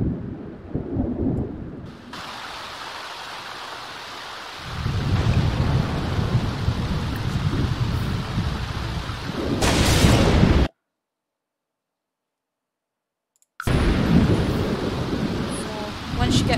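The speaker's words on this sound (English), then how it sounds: "It's always raining. Always." Heavy rain pours steadily while thunder rumbles, loud and close, with a surge of noise near the middle. The sound cuts out briefly to silence, then returns.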